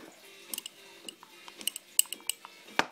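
Small utensil stirring homemade edible fake blood in a container, giving light clinking and scraping ticks scattered irregularly across the moment, faint and close with no voices.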